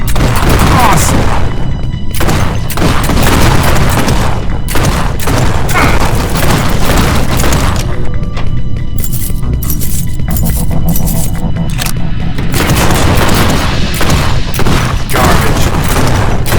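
Loud sniper rifle fire and heavy game combat in G2 Fighter, with repeated booming shots and impacts over a dense rumbling bed, plus a few quieter gaps and light metallic clinks.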